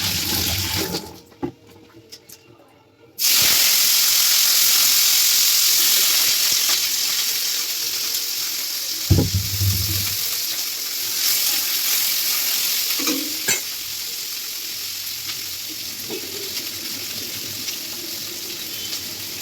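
Chopped onion hits hot oil in a kadai with a sudden loud sizzle that stays steady and close, broken by occasional stirring scrapes and clinks, with no talking.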